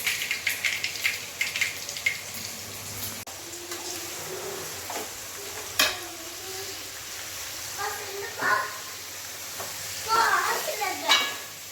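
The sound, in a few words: eggplant frying in oil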